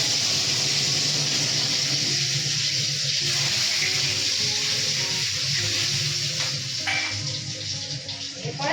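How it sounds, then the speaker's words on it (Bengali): Whole garam masala spices dropped into a little hot oil for fried rice give a loud, steady, close sizzle and crackle that holds throughout with no talk. "আমি সবার প্রথমে কিছুটা গোটা গরম মশলা তেলের মধ্যে দিয়ে দিই।"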